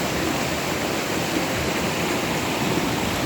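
Steady rushing river water, a dense broadband roar with no breaks, like a strong current flowing close by.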